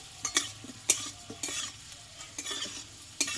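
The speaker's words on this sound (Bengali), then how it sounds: "আর বন্ধুরা আলুটা কিন্তু কষতে গিয়ে অনেকটা পরিমাণে কিন্তু নরম হয়ে গেছে" Potatoes fry in oil in a pan, a quiet sizzle broken by several sharp spatula scrapes and clinks at uneven intervals, close and without talk.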